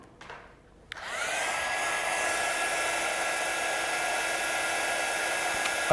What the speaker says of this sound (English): I'm just going to bring in my heat gun to heat set that